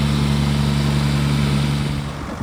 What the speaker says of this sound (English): we've got Adam in the tractor with the seeder, the aero seeder